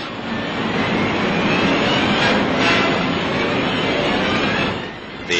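An 82-ton Douglas XB-19 bomber with a 212-foot wingspan flies over an airfield, its piston engines a loud, continuous broadband roar that swells and then eases near the end.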